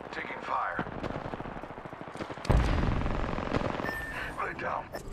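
Apex Legends gunfire rattles in rapid automatic bursts, with a heavy blast midway followed by sustained shooting, while game voice lines and effects layer over the firefight.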